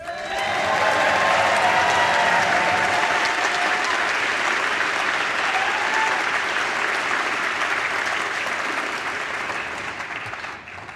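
Loud, sustained applause fills a House chamber during a floor session, dense clapping from many hands holding steady for about ten seconds before tapering off.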